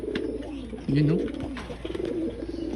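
Racing pigeons coo close by in a low, rolling warble, with one louder burst midway, during a training session in Sorsogon; someone speaks briefly over them.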